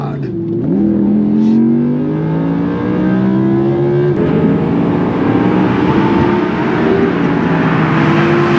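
A stock 2017 Audi R8 supercar engine pulls hard through the revs in rising sweeps with a gear change partway, loud and heard from inside the cabin.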